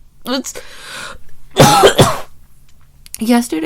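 A short burst of harsh coughing, with hoarse throat-clearing sounds before and after, close to the microphone.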